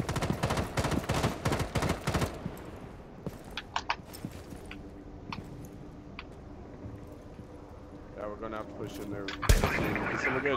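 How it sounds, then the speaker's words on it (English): Rainbow Six Siege video game gunfire: dense rapid bursts of automatic fire for the first couple of seconds, then sporadic single shots and thuds, and a loud close blast near the end. "I shot Bandit right in the dick. I'm lighting Valkyrie up"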